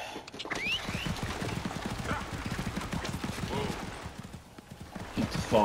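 Steady rhythmic clip-clop of horses pulling a carriage in Assassin's Creed Origins trots along close by, with occasional neighs and distant pops of gunfire mixed in under the clatter.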